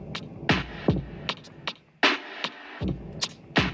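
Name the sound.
hi-hat loop with offbeat timing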